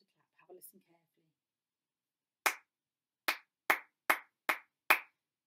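Six sharp hand claps in a rhythm pattern for a KS1 lesson: one lone clap, a pause, then five quick evenly spaced claps. A faint brief whisper comes before them in an otherwise quiet room.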